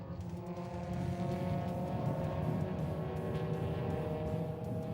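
Historic race cars, including a Mercedes and a Ford Escort, pass on a racing circuit with a steady, fairly distant engine drone and no voices.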